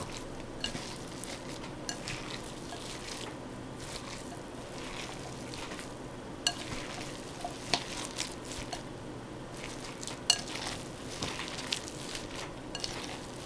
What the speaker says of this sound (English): Making sure to blend all the seasonings and the ground beef together so you get a well seasoned meat